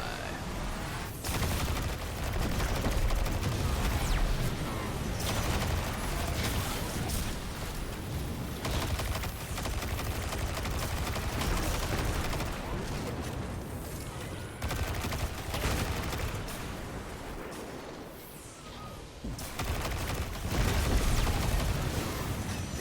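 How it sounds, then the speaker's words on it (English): Explosions and gunfire in the video game Destiny 2 come in heavy repeated bursts with short gaps between them, loud, dense blasts with rapid shots mixed in, sometimes under a player's voice. "They do have an impressive explosion."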